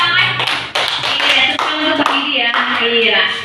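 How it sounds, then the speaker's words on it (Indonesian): A classroom group claps together for a student who arrived late, a lively burst of hand-clapping with scattered taps and background voices talking over it. "Iya, tepuk tangan."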